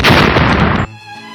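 A factory blows up in the Sonic Underground cartoon: a loud, dense explosive roar fills the first moment, then cuts off abruptly into a fainter ringing tail.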